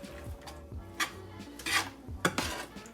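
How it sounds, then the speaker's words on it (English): Pasta shells being stirred into ground beef in a pot, a few scraping clanks and knocks of a utensil against the pot with soft rustling in between, close and fairly quiet. "So we'll just stir all this in here together."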